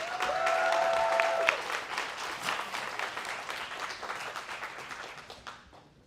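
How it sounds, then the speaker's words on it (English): An audience at an annual awards ceremony claps for award winners. The applause is dense and steady, then gradually thins and fades away toward the end. "If we can give one final round of applause to our award winners"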